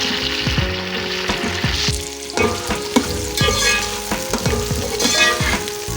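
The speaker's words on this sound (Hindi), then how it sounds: "मैं इसके अंदर आलू डाल दूंगी और इन्हें थोड़ा सा फ्राई कर दूंगी।" Potatoes fry in a pan with browned onions, giving off a loud, steady sizzle broken by repeated scrapes and stirs of a spoon, with no voices.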